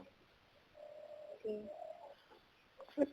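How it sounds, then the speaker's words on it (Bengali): A small bird gives a soft, tonal, coo-like call lasting about a second, fairly close in a quiet setting, followed by a brief sharper note at the end. "ছোট্ট একটা পাখি ধরে ফেললাম।"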